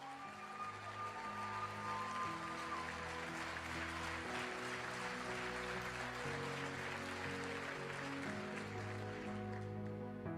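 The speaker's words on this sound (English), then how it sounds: "Give yourselves a round of applause." Sustained applause from a live audience at a motivational seminar, a dense, steady wash of clapping lasting throughout, with music playing underneath.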